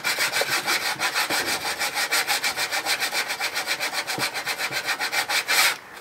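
A vintage 9-point crosscut hand saw rasps through wood in rapid, even short strokes, a close, steady rhythmic scratching that continues throughout with no talking.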